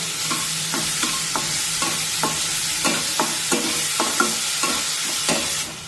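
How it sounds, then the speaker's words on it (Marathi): Green chili paste frying in oil with a pinch of asafoetida for spinach gargata, a constant close sizzle with a rhythmic series of spatula stirring strokes and no speech. "हे मिरचीचं वाटण टाकूया आणि मिरची तेलामध्ये छानपैकी परतून घेऊया"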